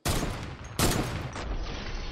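A sniper rifle shot in an online duos video game fires with a sharp, loud crack at the start, followed by a second heavy blast partway through, each trailing into a sustained booming echo.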